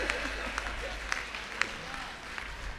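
Audience applause at a Hindi kavi sammelan poetry recital, a faint, steady patter of clapping from a crowd, with scattered sharper claps standing out over the low murmur.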